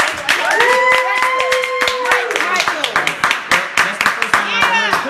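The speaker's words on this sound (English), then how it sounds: "Everybody, give us a round of applause for Director Mike Michaels." A crowd claps in a steady stream of sharp hand claps, with voices calling out and some whistling over the applause.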